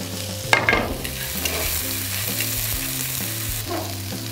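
Celery, yam and paprika stir-fried with garlic in a pan, a close steady sizzle with a clatter at the start and rhythmic scraping stirs throughout.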